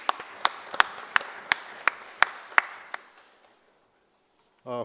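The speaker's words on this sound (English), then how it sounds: "I request everyone to give applause to him." An audience at a ceremony signing a memorandum of understanding between a defence ministry and a university claps in a sparse, slow series of about nine sharp claps that fade out, followed by brief silence and the onset of a voice.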